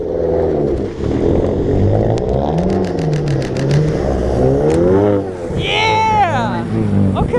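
Car engine revving hard at a winter car meet outdoors in Buffalo, New York, rising and falling in pitch close by and loud, with people shouting and cheering over it.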